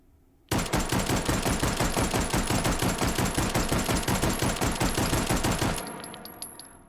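A Mauser carbine in 7.63x25 Mauser fires in semi-automatic mode in the H3VR virtual reality shooting game: about five seconds of rapid, tightly spaced shots, close and loud, then a clicking tail.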